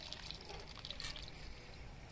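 Water poured gently onto the soil of a potted chrysanthemum, a soft, faint trickle and splash at close range.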